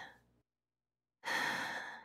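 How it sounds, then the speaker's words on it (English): A slow, deep inhalation drawn in alone after a short pause, preceded by the tail of a fainter breath, taken as part of a calming breathing exercise. "Deep breath in"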